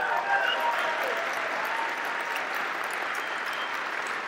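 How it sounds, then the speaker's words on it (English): Audience applause rising for a man named Tim, a steady wash of clapping from a room full of people, loud and sustained throughout without a break. "Everybody give him another round of applause."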